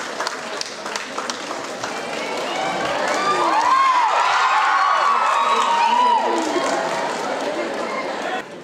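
An audience claps warmly as a former governor is welcomed onto the stage at a Savitribai Phule birth anniversary event at Ravindra Bharathi, steady applause swelling in the middle while a voice speaks over it.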